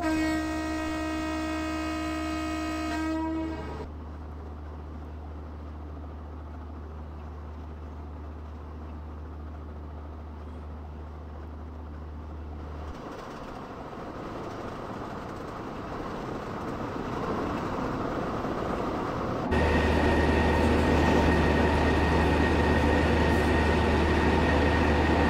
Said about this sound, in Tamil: ஐய் சிம்மா, நம்ம சாதாரணமாக ஓட்டிகிட்டு இருக்கோம், ட்ரெயின் ஓட்டுறது இவ்வளோ பெரிய விஷயம் தெரியுமா?